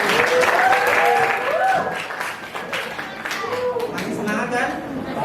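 An audience in a classroom applauds, with sustained clapping from many hands. Voices chatter and call out over the clapping the whole time.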